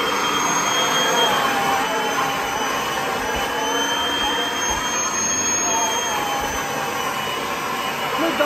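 A Kirby vacuum cleaner with a dust brush attachment roars continuously and loudly at close range, a steady broadband whine with no pauses.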